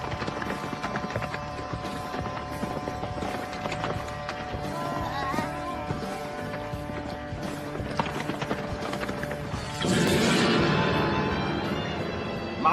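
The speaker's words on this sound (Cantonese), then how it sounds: "係佢隻馬蹄聲啊！" Cartoon horse hooves clip-clop rhythmically through a race, steady mid-distance beats under music, swelling into a louder rushing burst near the end.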